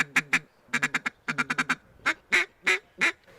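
A duck call blown to imitate a mallard hen puts out quick bursts of nasal quacks, first in clipped clusters, then several longer, drawn-out quacks spaced evenly, loud and close with no talking.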